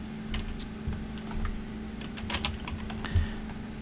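Typing on a computer keyboard, a quick run of close key clicks with uneven rhythm over a low steady hum, no voice.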